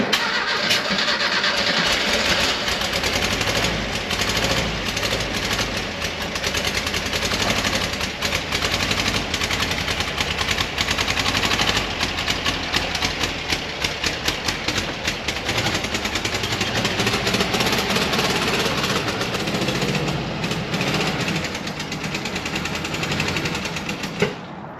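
A 1968 bus engine cranks and catches, then runs loud and close with a rough, uneven beat as if missing on a cylinder, steady throughout with no talk.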